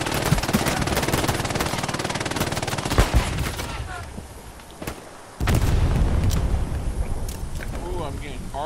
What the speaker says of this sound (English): Yeah, that MG is out here too.